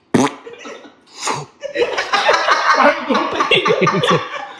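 A voice mimics a fart with buzzing, sputtering lip noises in several bursts, loud and close, with bits of laughter mixed in.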